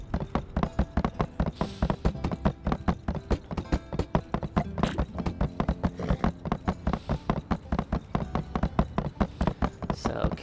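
Horse hooves clop in a fast, even rhythm in the video game My Time at Sandrock, a close, steady run of hoofbeats that carries on for the whole stretch.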